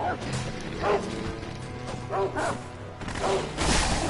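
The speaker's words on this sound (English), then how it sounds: "Kill Cujo and his dogs" Dogs bark and yip in the video game Sekiro, several sharp barks spread across the moment over a noisy game backdrop, with a voice talking underneath.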